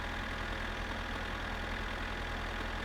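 A tractor engine idles in My Summer Car with a steady, loud, continuous drone and a low pulsing thrum underneath, unbroken and alone.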